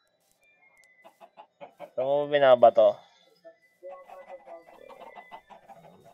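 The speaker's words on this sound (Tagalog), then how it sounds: "Oh, may mga manok na." Chickens cluck in the Minecraft video game, short blocky cluck sounds repeating under a voice, which rises loudly in the middle.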